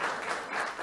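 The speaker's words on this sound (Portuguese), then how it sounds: "vamos a dar un gran aplauso" A brief wash of applause from a crowd at an international architecture and urbanism forum, steady and fairly loud, with no clear individual claps standing out.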